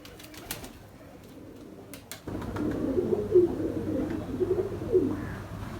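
After a couple of seconds of quiet, pigeons begin cooing: soft, low, repeated throaty calls, fairly close and continuing steadily to the end.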